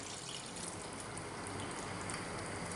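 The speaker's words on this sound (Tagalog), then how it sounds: "ilalagay ko na nga po yung patatas lagyan po natin ng isang cup ng tubig" Steady broadband rush of water pouring continuously into a pot of potatoes, close and fairly quiet, with no voices.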